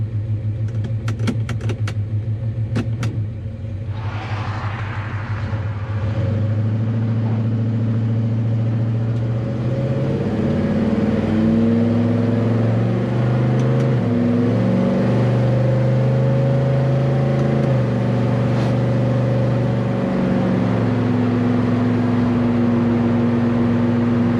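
A Chevrolet Chevelle cruises on its first drive with a new transmission. A steady, low engine rumble runs heard from inside the car, with gentle shifts and mild swells in pitch across the stretch.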